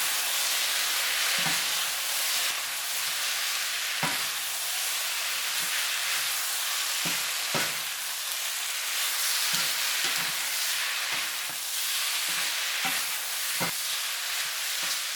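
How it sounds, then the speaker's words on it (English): Beef udon noodles stir-fried in a hot pan, a steady broad sizzle and hiss with repeated sharp scrapes and clacks of the utensil as everything is tossed together, no talking. "And stir everything all together."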